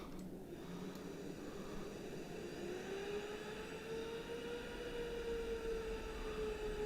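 Boeing 787 engines spooling up in a flight simulator game, a steady whine rising gradually in pitch over a constant airy roar, heard alone with no talking.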